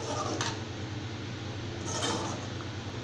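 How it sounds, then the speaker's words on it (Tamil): Village egg curry stirred in a pot: two brief metallic scrapes and clinks of a utensil against the pot rise over a steady low simmer and fan-like hum, with no voice. "லைட்டா ஒரு கிளறி கிளறிடலாம்"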